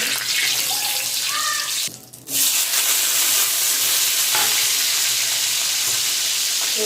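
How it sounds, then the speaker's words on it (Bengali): Dried red chillies, bay leaves and panch phoron crackle in hot oil in a pan, a steady, close, bright sizzle that dips briefly partway through and then carries on. "তেল দিয়ে দেবো শুকনো লঙ্কা তেজপাতা আর দেবো পাঁচফোড়ন"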